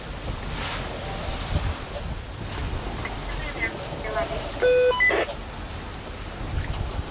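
Wind and waves while a boat sails with its motor shut down, a soft steady wash of water and breeze with brief creaks and a short tonal beeping midway, fairly faint.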